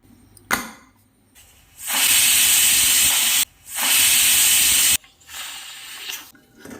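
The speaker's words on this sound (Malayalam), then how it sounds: "മീഡിയം ഫ്ലെയിമിൽ വെച്ച് 2 വിസിൽ വന്നതും സ്റ്റവ് ഓഫ് ചെയ്യാം" Two long, loud bursts of hissing steam from a pressure cooker whistle over a medium flame while cooking vegetable curry, a short pause between them, followed by a softer, shorter hiss.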